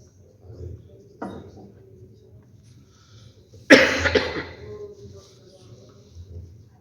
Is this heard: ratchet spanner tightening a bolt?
no